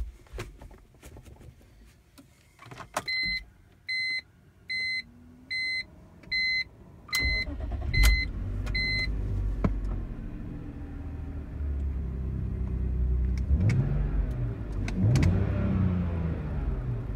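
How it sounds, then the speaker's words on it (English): A BMW E46 325i touring with a manual transmission swap sounds its dash chimes, then the engine cranks and fires up, settling into a steady close idle with a small rev. "there you go, fires right up"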